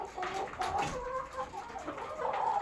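Chickens cluck steadily in a chicken coop on a poultry farm, a close, continuous chatter of several hens with no talking.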